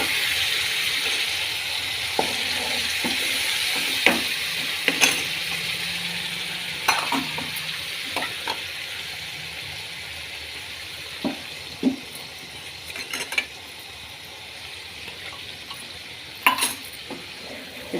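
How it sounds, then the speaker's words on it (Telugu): Ground masala paste frying in oil for rajma curry, a steady soft sizzle with scattered clinks and scrapes of a spoon stirring against the pot, no talking. "ఇప్పుడు మనం రుబ్బు పెట్టుకున్న మసాలా వేస్తున్నానండి"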